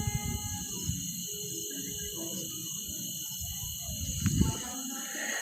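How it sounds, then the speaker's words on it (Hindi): Crickets and frogs call after rain, a dense steady high insect trill with lower croaking and chirping underneath, heard at moderate distance through a phone speaker, with faint voice and a brief louder burst near the end. "जब मेढक और टिड्डे इस प्रकार से आवाज़ें निकालते हैं,"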